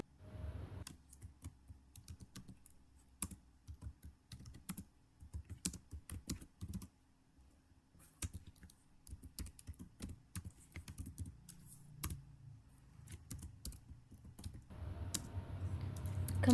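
Commands are typed on a computer keyboard in irregular bursts of close, crisp key clicks with brief pauses, and no talk.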